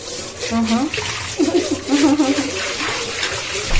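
Goat intestines being washed under running water, a steady splashing flow with a few louder gushes and some faint background voices.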